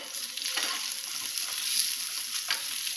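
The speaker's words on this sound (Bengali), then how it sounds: "প্রথমে আলু দিলাম" Potatoes frying in oil in a pan for a Bengali fish curry, a steady close sizzle with a few soft scraping stirs and no talking.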